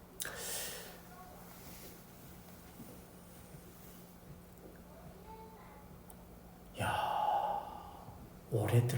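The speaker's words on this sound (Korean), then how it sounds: "입을 조금 벌리고 천천히 숨을 내쉬기 바랍니다" A group slowly exhaling through slightly open mouths during a breathing exercise, soft airy breaths over a quiet room hum, with a sharper breathy burst near the end.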